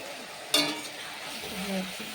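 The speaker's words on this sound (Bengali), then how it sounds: "মশলা কষাচ্ছি" Spices sauté in a pan with cumin, garlic, onion and chilli, a soft continuous sizzle with a sharp utensil clink near the start and faint stirring scrapes.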